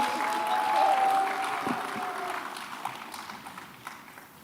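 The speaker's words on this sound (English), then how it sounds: "One more time, a round of applause for our Honorable peer." A conference audience at a data forum gives a round of applause, a dense wash of clapping that stays steady and fairly loud, then thins and trails off toward the end with a few scattered claps.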